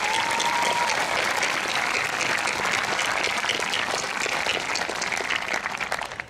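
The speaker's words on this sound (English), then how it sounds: "Can we give them a round of applause?" Sustained applause from a large crowd at a high school graduation ceremony, dense and steady throughout, tapering slightly at the end.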